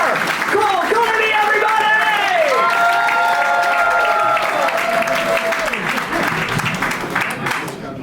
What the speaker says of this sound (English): Let's start clapping right now.